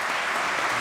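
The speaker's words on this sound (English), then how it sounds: "Please give a big round of applause for the panel." Applause from a conference audience for a discussion panel at a fintech event in Manchester, a brief, steady burst of many hands clapping close by, with no voices over it.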